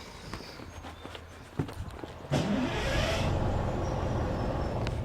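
A bus engine started with a key switch: a few light clicks and taps come first, then the engine abruptly catches and settles into a loud, steady running roar.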